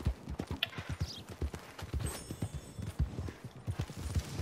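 Horse hooves clip-clop at a steady walking rhythm in Red Dead Redemption 2 Online, close and fairly quiet, with a faint game ambience behind and no talk.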